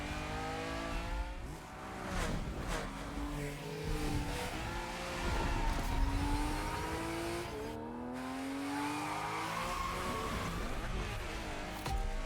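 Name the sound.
1970s Porsche car driving in video game The Crew: Motorfest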